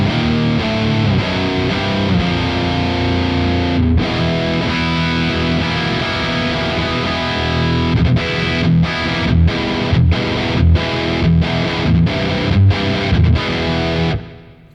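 An electric guitar through a Revv Generator 100R MKIII amp with the fat switch on, thick distorted riffs played loud, with a run of sharp rhythmic chugs and stops before ringing out.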